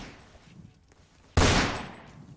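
In a Roblox Fortnite game, a single loud gunshot burst from a machine gun cracks out abruptly after a quiet stretch, then decays over a second or so.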